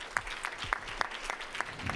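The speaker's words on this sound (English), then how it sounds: "Let's give everyone a warm round of applause." Scattered, faint clapping after recognitions at a school board meeting: a handful of separate hand claps in loose rhythm from a small, sparse gathering.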